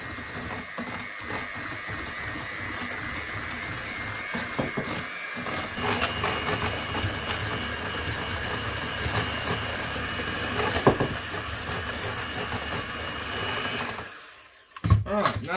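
An electric mixer creams a liquidy butter mixture for keto brownies, a steady whirring, grinding drone that runs unbroken for most of the stretch before cutting off near the end, followed by a couple of sharp knocks.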